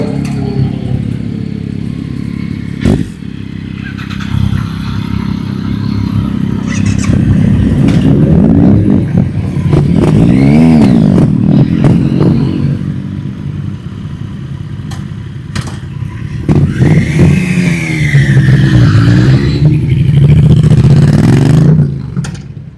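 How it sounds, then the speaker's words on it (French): Motorcycles rev loudly on a street in Fontainebleau, engines swelling and fading as they pass nearby, with repeated throttle blips and a steady rumble over about twenty seconds. "Heureusement qu'elles sont pas électriques vos motos, hein."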